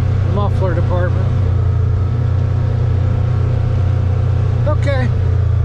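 A newer UTV engine drones steadily and loudly while riding a trail near Fairfield Bay, Arkansas, a constant low rumble with someone talking over it at the start and near the end.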